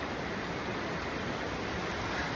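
A mountain stream of snowmelt water at about 3,060 metres on a Himalayan trekking route rushes with a steady, even hiss, faint and unbroken throughout.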